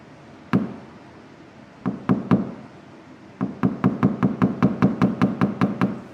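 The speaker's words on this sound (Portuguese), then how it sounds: "Ao aperceber-se de um alto, tenta baixá-lo, batendo a chapa." A mechanic hammers a dented car body panel flat: a few separate, sharp metallic knocks with gaps between them, then a quick, even run of about a dozen close, loud blows.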